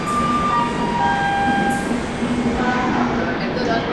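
Garib Rath Express train passing through a station, a loud, steady rolling rumble with high metallic squeals running the whole time, with station noise in the background.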